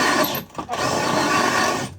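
A Forstner bit drills slowly into plastic Delta Membrane, a steady grinding whir lasting about two seconds, with a brief dip partway through and no talk.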